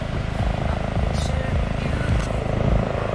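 A helicopter passes overhead with a rhythmic, thudding rotor beat and a steady drone, fairly loud, with indistinct voices mixed in.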